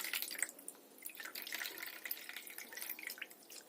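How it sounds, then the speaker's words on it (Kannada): Water sloshes and drips in a bowl as soaked soybeans are rinsed by hand to float off their skins, a soft, continuous watery splashing close by with small drips and no talking. "ಸ್ವಲ್ಪ ನೀರು ಜಾಸ್ತಿ ಹಾಕ್ಕೊಂಡು ಜಾಲಿಸ್ಕೋಬೇಕು"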